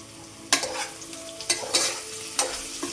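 Onions for mushroom biryani fry in a pan while a spoon stirs them, a steady sizzle broken by several sharp scraping strokes against the metal, close up with no talking.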